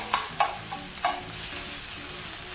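Spinach chunks wilting in a hot pan, a steady sizzle with a few sharp stirring scrapes near the start, close and moderately loud with no talking.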